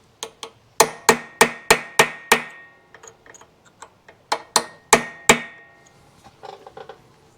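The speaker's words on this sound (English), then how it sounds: "try to fold that lock washer over also" Sharp metallic hammer blows on a chisel fold over a lock washer on the clutch cover of a 1971 Kawasaki F7, in quick rhythmic bursts of strikes with short pauses between groups, close and clear.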